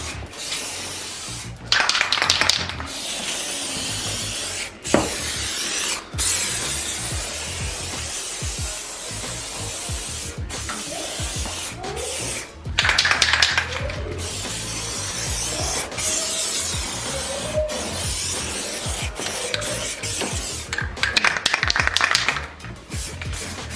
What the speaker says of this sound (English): So we always want to just mist it on, especially when it's going on metal.